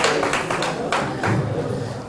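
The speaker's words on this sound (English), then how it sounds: "Give him a round of applause" Audience applause breaks out at a university debate event, a dense wash of many hands clapping at close range, steady for about two seconds.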